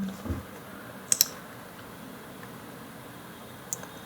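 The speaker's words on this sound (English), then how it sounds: "press F on the keyboard" Keys pressed on a computer keyboard while editing text effects in DaVinci Resolve, a quick pair of sharp clicks followed later by a single isolated click against quiet room noise.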